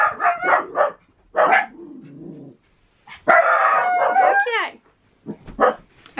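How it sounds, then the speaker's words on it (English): Pet dogs barking indoors as they rush downstairs to chase off the postman, several loud close barks and a drawn-out howling yelp, with some nearby clattering between them. "the dogs have just gone downstairs to chase away the postman"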